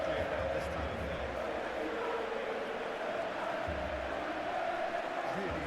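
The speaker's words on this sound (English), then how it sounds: "There is still movement in the crowd, plenty of people yet to take their seats." Stadium crowd ambience in a football video game match between Barcelona and Atlético Madrid in the Champions League, a steady, broad murmur of many spectators filling the background while a commentator talks over it.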